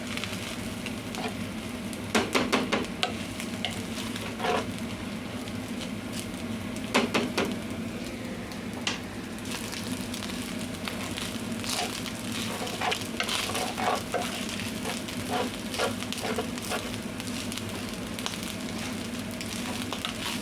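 Garlic fried rice (sinangag) is stir-fried in a pan, a steady sizzle running throughout with repeated sharp scraping and clattering of the spatula against the pan, no talking.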